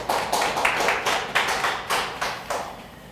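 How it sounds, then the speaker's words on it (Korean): A church congregation at a Sunday worship service claps in a slow, even rhythm, about eight distinct sharp hand claps spaced roughly evenly, close and clear with no talking over them. "하나님께 영광의 박수를."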